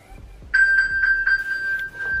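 An iPhone pings when triggered by the Apple Watch find-phone feature, giving a series of bright, even electronic chimes in a steady rhythm that are loud and close, with a few soft handling knocks before them.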